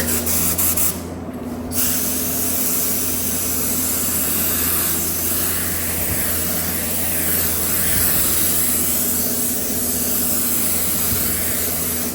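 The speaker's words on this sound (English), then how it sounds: "So I'll take this into the booth and spray the darker blue." A steady hiss of a spray gun painting dark blue patterns on a chopper motorcycle in a paint booth, running continuously with a brief pause near the start, over a constant mechanical hum.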